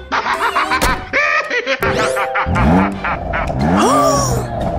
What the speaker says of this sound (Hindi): ये मेरी गाड़ी की आवाज थी ना?